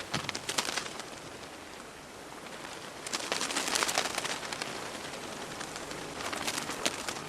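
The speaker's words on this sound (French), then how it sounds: "ce sont les milliards d'ailes de papillons monarques" A dense, soft fluttering rustle of billions of monarch butterfly wings beating at once, steady throughout and swelling louder in the middle.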